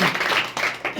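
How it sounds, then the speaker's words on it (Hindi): Applause from a gathered audience at a coaching class ceremony honouring tenth-grade students, a steady dense patter of clapping throughout a short burst, fairly loud and close. "इनके लिए ताली बजाइए।"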